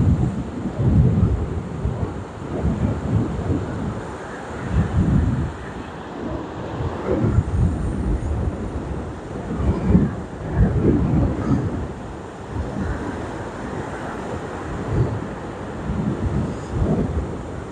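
Strong wind buffets a boat on its final approach near a sandbar, a loud continuous roar of gusts with rumbling thumps against the microphone and no speech.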